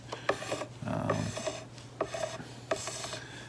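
Card scraper rasping across the wood of a 1970s Gibson ES-347 guitar neck during a refret, close up: a handful of short scraping strokes and one longer sustained pass, with a faint word spoken between them.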